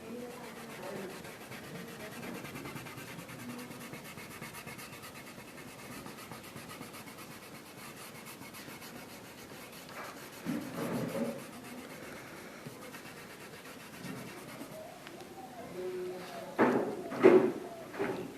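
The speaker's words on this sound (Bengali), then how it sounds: "এটাও আমরা একটু ঘষে দিই।" Pencil or fingertip rubbing across drawing paper to smudge shading, producing soft, faint, continuous scratchy strokes with a few louder rubs near the end, without speech.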